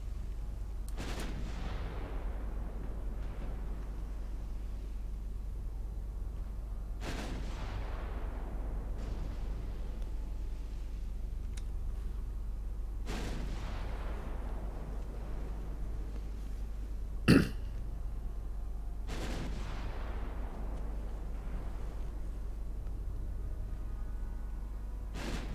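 Heavy warship guns fire in Ultimate Admiral Dreadnoughts, a 1940 naval battle: four or five deep, booming salvos spaced several seconds apart roll out over a steady low engine drone, with one sharp crack in between.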